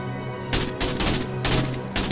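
Loud, close bursts of automatic gunfire in the co-op survival game 7 Days To Die, with several rapid sustained volleys broken by brief gaps.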